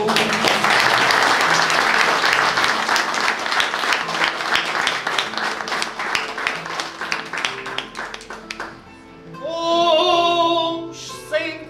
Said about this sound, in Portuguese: Eu peço palmas para a Judite, para o Carlos e para o Rui.